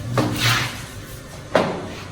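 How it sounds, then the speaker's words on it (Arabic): Two dull thuds on a door, loud and close, about a second and a half apart, with a faint rustle between them. "في حاجة خبطت على الباب صح؟"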